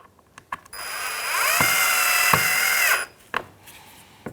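A power driver whirs for about two seconds, its pitch rising and falling as it sets Phillips screws into a plastic grille on a 2003-2011 Honda Element, with a few sharp clicks and knocks before and after.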